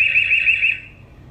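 An EZVIZ IP security camera sounds its alarm siren: a loud, steady electronic tone that holds for under a second, then cuts off, leaving faint background hiss with no talking.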